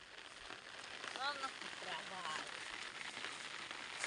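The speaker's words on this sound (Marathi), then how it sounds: "आज पाऊस येतोय बारीक बारीक बारीक" Light rain patters softly and steadily on a farm field, faint and diffuse, with a few brief bird-like chirps rising over the hiss.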